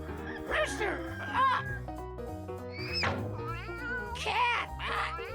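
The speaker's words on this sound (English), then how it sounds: "Cat!" Cartoon cat meowing over a steady bouncy children's music bed: a few short, bright meows rising and falling in pitch, moderately loud and close, spaced across several seconds.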